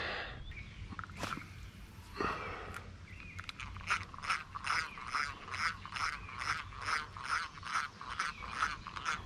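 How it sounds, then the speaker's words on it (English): An antique 1950s fishing reel squeaks as it is cranked beside a pond, a steady run of rhythmic, chirpy creaks like frog peeps, fairly faint and close, after a few scattered handling knocks. "This reel, the squeaking it makes, it kind of sounds like frogs at night."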